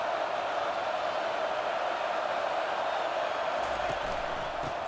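A stadium crowd in the EA Sports College Football game, South Carolina versus Alabama, sends up a dense, constant roar that fills the background without a break.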